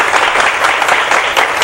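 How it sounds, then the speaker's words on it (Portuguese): Vigorous, loud clapping from a lecture audience at UNIFACS fills a short stretch with a thick, continuous roar of hands and no speech over it. "Essas palmas é para a administração, poderia ser mais forte, né?"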